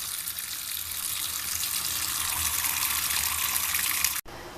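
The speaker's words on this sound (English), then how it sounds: "fill up the bucket most of the way with water" Water gushes steadily into a bucket for hand-washing laundry, a loud continuous rushing pour that stops abruptly near the end.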